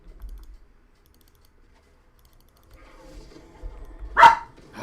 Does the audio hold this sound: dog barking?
yes